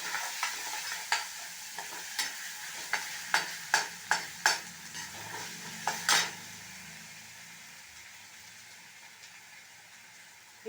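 Ginger garlic paste frying with browned chana dal and urad dal in a pan, a soft sizzle broken by a run of sharp spatula scrapes and taps against the pan that fade out into quiet frying.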